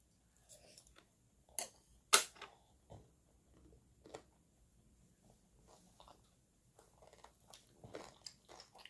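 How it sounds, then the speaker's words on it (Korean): Someone eating kimchi with hot sundae soup (Korean blood sausage soup) at home: sparse, close crunching and chewing bites, a few sharper clicks, quiet between them, and no talking. "뜨거울 때 김치 먹어"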